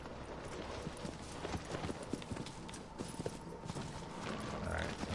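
Horse hooves clip-clopping in a video game, a steady close rhythm of hoofbeats running throughout while a person talks over them.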